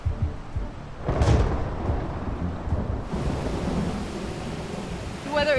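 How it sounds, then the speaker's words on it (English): A loud thunderclap booms and rolls over steady heavy rain pouring down in the jungle, the downpour hissing continuously throughout. "I think we've got some thunder and lightning and some very heavy rain on the way."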